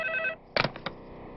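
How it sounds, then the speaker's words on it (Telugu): A telephone rings indoors in a quiet room, a single short electronic trill that stops abruptly, followed by a few soft clicks and handling noises as the receiver is picked up. "ఏమయ్యో పిల్ల దగ్గర నుంచి ఫోన్ అనుకుంటా."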